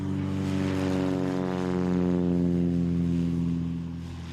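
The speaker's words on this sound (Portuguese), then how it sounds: "os aviões decolam de pistas à beira da Transamazônica rumo a lugares perdidos na selva" A heavily loaded propeller airplane takes off from a remote mining airstrip beside the Transamazônica highway in the jungle, its engine drone loud and close, steady and rising slightly before fading away at the end.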